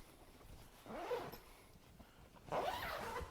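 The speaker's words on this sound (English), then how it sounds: "Take this side here, and you'll just zip it all the way around." The top zipper of a Topika portable pet dog playpen is pulled closed in two quick, close rasping strokes separated by a short pause, quiet and alone with no talk.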